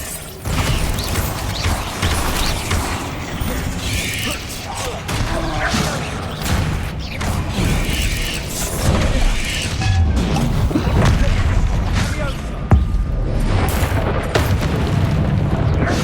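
Booming magical blasts from the Bombarda spell in Hogwarts Legacy, sustained dense crashes and thuds with continuous loud battle noise and a voice shouting over the chaos.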